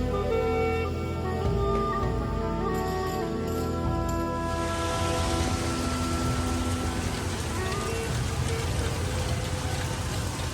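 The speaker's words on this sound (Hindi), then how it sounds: "बारिश रुकने का नाम नहीं लेती है" Rain pours down steadily, a dense hiss of drops that grows heavier partway through, with some tonal background noise early on.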